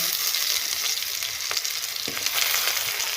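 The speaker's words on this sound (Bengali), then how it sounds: "ওগুলো ওর মধ্যে দিয়ে ভেজে নেব" Small cut potato pieces fry steadily in hot oil, a dense, continuous close-up sizzle with faint crackles and occasional light pops throughout.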